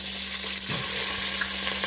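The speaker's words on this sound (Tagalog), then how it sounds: "tumalsik yung mantika" Hot oil spatters and crackles as washed chicken thighs fry, a steady close sizzle with a brief burst of popping partway through, no voices.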